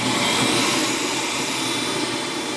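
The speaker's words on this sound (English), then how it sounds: "we're hearing the suction noise right now" Vacuum system suction noise, a loud steady broadband rush of airflow with no breaks, heard alone for a couple of seconds.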